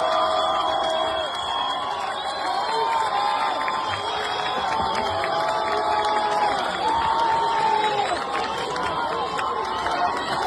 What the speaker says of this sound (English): they just go and cheer and how excited they are